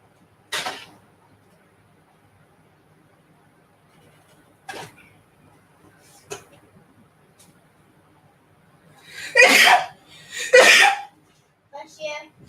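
A few faint clicks and rustles, then two sharp, loud sneezes in quick succession near the end, followed by small noises.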